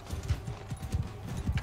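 Hooves of a horse clip-clop in a steady rhythmic gallop in the medieval combat game Bannerlord, several quick thuds per second, fairly close and alone.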